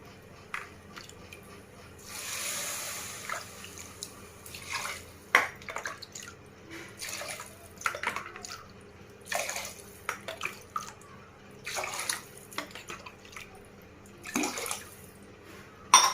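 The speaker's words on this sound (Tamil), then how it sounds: "6 டம்ளர் தண்ணி ஊற்ற போகிறேன்." Water poured into a cooking pot for venn pongal made with dal, in a home kitchen, arriving in several separate splashing bursts with short gaps, close and moderately loud with no talking.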